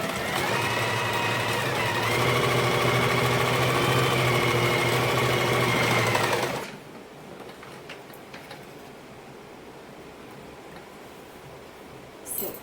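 Electric sewing machine stitching saree fall pieces together runs in a steady fast whirring drone for about six seconds, then stops, leaving quiet room noise.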